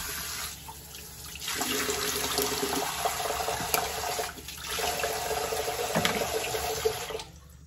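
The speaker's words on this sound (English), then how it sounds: "I'll add some water." Tap water runs into a clay pan, a loud, close hiss and splash that pours steadily for several seconds with a couple of brief changes in flow before cutting off.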